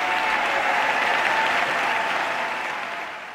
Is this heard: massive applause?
yes